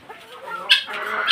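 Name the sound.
chickens clucking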